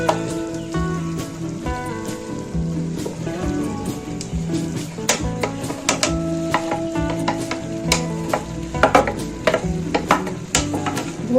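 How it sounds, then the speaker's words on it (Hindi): Finely crushed eggplant goes into sizzling baingan keema in a pan, giving a steady crackling fry with stirring scrapes and taps over a low hum, no talk. "मैंने जो बैंगन को अच्छे से क्रश कर लिया था बारीक, वो हम डाल देंगे इसमें"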